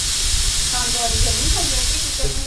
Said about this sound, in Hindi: सीटी ऊपर से उठा लेनी है और गैस को अच्छे तरीके से खारिज होने देना है।